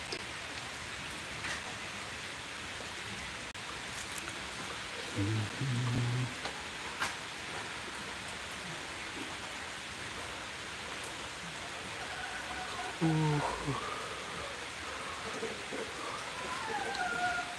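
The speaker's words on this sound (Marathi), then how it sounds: "कंटिन्यू पाऊस सुरू आहे संततधार" Steady, continuous heavy rain pours down outdoors on a goat farm, a dense even hiss throughout, with faint animal or bird calls briefly rising above it now and then.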